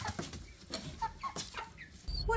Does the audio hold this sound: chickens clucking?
yes